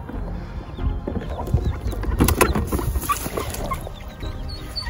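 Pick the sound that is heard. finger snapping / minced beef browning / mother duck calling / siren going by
mother duck calling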